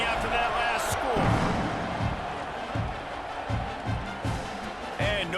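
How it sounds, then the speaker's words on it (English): Stadium crowd noise in EA Sports College Football 26 after a touchdown and extra point, a steady loud roar with scattered thumps, running under a commentator's voice. "this crowd is buzzing after that last score"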